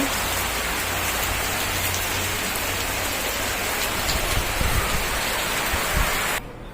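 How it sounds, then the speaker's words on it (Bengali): Heavy rain pours down in a dense, constant hiss and patter, then cuts off abruptly near the end. "প্রচুর ধারে বৃষ্টি হচ্ছে দেখুন"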